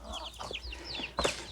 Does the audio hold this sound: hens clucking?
yes